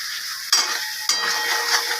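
Hot oil sizzling in a pan with vegetables for a cauliflower fish curry, two sharp bursts of frying as food is stirred and turned, close and continuous hiss without speech.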